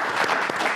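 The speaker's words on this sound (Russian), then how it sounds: "эти аплодисменты для вас." Brief burst of audience applause in a concert hall, dense overlapping claps at steady loudness.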